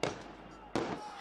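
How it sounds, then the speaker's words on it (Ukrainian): Firecrackers thrown by protesters at a street clash with police go off in two sharp, loud bangs about three-quarters of a second apart. Each bang leaves a noisy echoing tail, and a narrator's voice runs underneath. "Мітингувальники палили барикади, жбурляли у поліцейських петарди і коктейлі Молотова."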